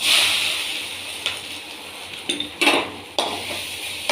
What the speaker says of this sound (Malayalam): എന്നിട്ടൊന്ന് ഇളക്കി കൊടുക്കാം